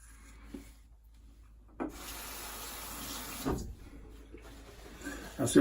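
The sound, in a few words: honing a razor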